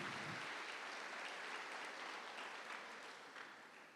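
A church congregation breaks into applause to welcome guests, a steady wash of clapping that holds evenly across the whole stretch and tapers slightly toward the end, with no voices rising above it.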